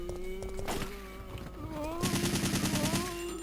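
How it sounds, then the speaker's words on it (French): Rapid bursts of gunfire in the video game Resident Evil 3, heard as distant, repeated shots against a busy game soundscape with tonal music lines and some background speech. "J'entends les coups de feu."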